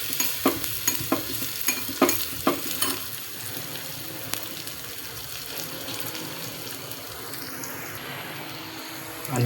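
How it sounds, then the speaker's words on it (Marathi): Cumin and red chili are stirred in a hot tadka for a masoor dish, a spoon clinking rhythmically against the pan several times over a soft, steady sizzle that continues alone afterward. "त्यानंतर थोडं जिरं आणि थोडीशी लाल मिरची छान हलवून घ्यायची आहे."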